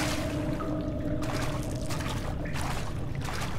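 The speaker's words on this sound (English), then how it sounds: "I'm tempted to follow the path of the water" Steady flowing water from the Amnesia: The Dark Descent game, a continuous broad rushing trickle filling the whole stretch at a constant moderate level, with no voices.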